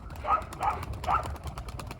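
Pigeons near a house give three short calls about half a second apart, close and moderately loud over a low background rumble.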